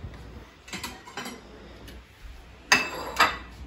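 A plate is lifted from a dish rack in a home kitchen, giving a few light clinks and taps, then two sharper ceramic knocks near the end, close and without talk.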